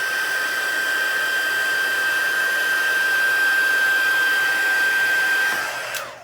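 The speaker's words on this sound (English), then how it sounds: "I'm just going to hit it with my heat tool so that the colors aren't running as we go" A handheld heat tool blows steadily at close range, drying watercolour paint with a continuous even whoosh and a thin high whine, then clicks off at the end.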